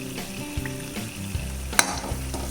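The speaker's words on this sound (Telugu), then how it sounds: "ఇలా హై ఫ్లేమ్ మీద వేయించుకోండి." Chakkarapara snacks deep-fry in hot oil on a high flame, giving a steady close sizzle and bubbling with a few sharp pops and light stirring clatters.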